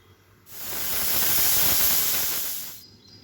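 A loud, sharp hiss of escaping steam rises abruptly, holds steadily for a couple of seconds, then cuts off, as a pressure cooker cooking mutton curry vents nearby.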